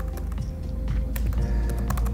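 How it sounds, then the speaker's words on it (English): Quick, close typing on a computer keyboard, with a rapid irregular patter of key taps over a short burst. "So we'll just type prison."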